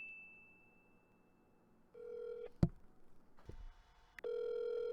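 A phone ringback tone sounds in short electronic bursts with brief pauses, fairly quiet, with a click and some soft handling noise between rings.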